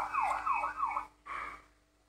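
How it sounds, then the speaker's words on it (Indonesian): A toy ambulance siren wails in short rising-and-falling sweeps, then gives a brief steady tone, thin and fairly close. "Ambulan bawa orang sakit."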